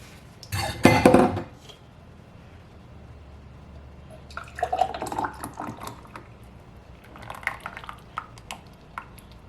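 Homemade grape jelly made from grape juice is poured into half-pint jars, giving a loud, gurgling splash at first, then softer intermittent drips and light clinks of glass and utensils.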